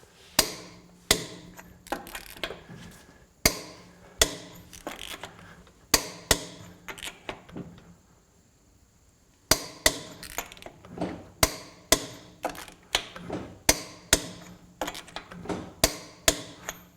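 An inexpensive $100 Amazon impact wrench hammers at over-torqued lug nuts, firing in sharp repeated rattling bursts with short pauses between, then a quiet gap before another rapid run of loud, close impacts.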